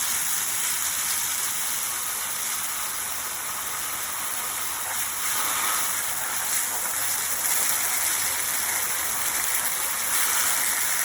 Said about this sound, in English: It's to increase the water flow, concentrated a bit on the area where the canister is.